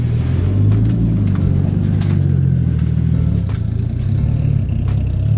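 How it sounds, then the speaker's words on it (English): Car engine running under load on a dyno, a loud steady mid-pitched roar with revving swells and some mechanical clatter, close up and continuous. "The car is moving on its own power."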